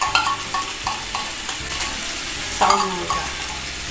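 Corned beef sautéed in a pan for breakfast, with steady frying sizzle and repeated scraping stirs of a utensil against the pan, loud and close, with a brief spoken word.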